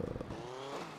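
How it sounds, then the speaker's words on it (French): Motorcycle engine in GTA Vice City idling and revving steadily at moderate level, with a slight rise in pitch partway through and no talk over it. "Ah ouais, là c'est une moto."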